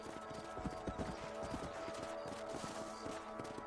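Rhythmic clip-clop of horse hooves trotting steadily in the video game Red Dead Redemption, with a faint ambient backdrop and no talking.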